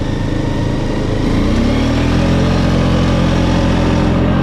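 A Honda Rubicon 500 ATV engine runs steadily and loudly, its pitch dipping then settling lower as the automatic transmission shifts early in D2, then holding an even drone.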